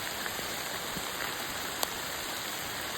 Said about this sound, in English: Guys, look, it's hailing.